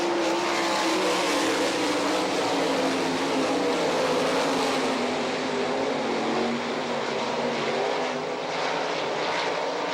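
A field of sprint cars races on the dirt oval at Rossburg, Ohio, in an All Star Circuit of Champions event, with loud sustained engine roar passing through the turns, fading slightly near the end.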